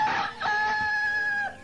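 A rooster crows once, a long drawn-out cock-a-doodle-doo rising and holding steady before tailing off, loud and close with no voices.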